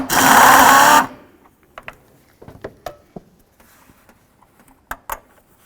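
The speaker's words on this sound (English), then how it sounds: "We're going to take out this 10mm headed bolt right down there." Loosening a 10mm bolt on a 2007-12 Nissan Altima: a loud burst of ratchet clicking opens, then scattered sharp metallic taps and clinks of the tool and bolt follow, close up with no talk.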